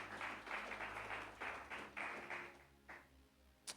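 A church congregation at a Sunday service applauding the Lord, a quiet, somewhat distant burst of rhythmic clapping in uneven pulses that fades out.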